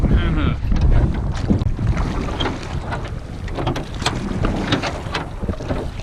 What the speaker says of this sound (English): I'm gonna give you rowing lessons